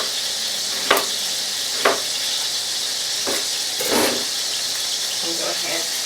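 Thinly sliced onion sizzles in a pot as southern-style slow-cooked greens get started, a steady hiss broken by a few sharp clacks of a utensil against the pot.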